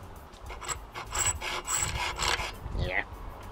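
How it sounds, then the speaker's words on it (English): A metal thread being filed by hand, a close rasping rub repeated in steady back-and-forth strokes, about five passes, with a brief higher scrape near the end and no talking. "I'm going to have to address it with a file."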